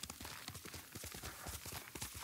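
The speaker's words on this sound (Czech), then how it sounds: "Naskočíme na koně, ať jsme tam co nejdřív." Horse hooves clip-clop steadily as a rider gallops across open ground in the video game Ghost of Tsushima Director's Cut, a quick, even run of close hoofbeats with no talk over them.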